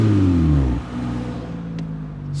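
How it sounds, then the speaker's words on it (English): A loud car exhaust on an auction-bought vandalized car, engine revving hard for under a second and then dropping back to a steady idle drone, close and with no one speaking. "The exhaust is loud."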